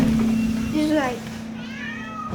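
A cat gives a couple of drawn-out meows in a kitty room, close and fairly clear, with a person talking around them.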